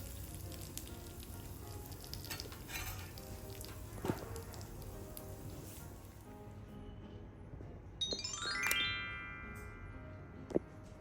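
A tadka of chilli, garlic and curry leaves sizzles for dal with a faint, steady crackling hiss and a few sharp ticks near the end.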